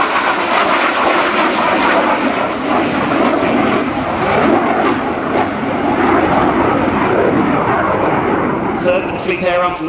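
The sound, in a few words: Sea Vixen jet aircraft flying at an air show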